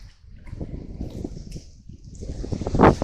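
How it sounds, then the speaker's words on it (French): Wind buffets the microphone outdoors in Castelnaudary, rumbling low and gusting, with a stronger rush near the end and faint watery sounds underneath. "C'est dommage pour ce vent qui s'est levé là"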